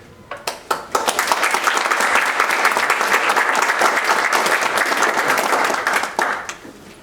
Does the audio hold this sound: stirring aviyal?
no